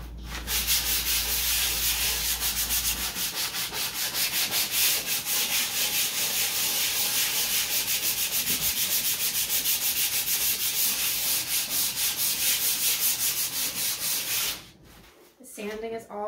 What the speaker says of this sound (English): So I'm gonna sand this down on the top